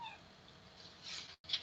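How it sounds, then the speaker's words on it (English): A house cat gives a short meow close by, two brief plaintive calls separated by a moment of silence in a quiet room. "Well, that was the cat talking."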